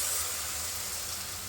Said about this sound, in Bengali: তাই দিদার জন্য ডিম ভাজা হচ্ছে।